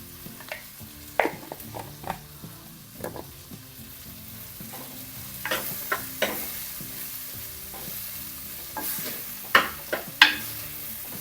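Spices with turmeric powder fry in a pan and are stirred, making a steady sizzle with scattered scraping and clinking strokes of the spoon, close and fairly quiet, with no talking.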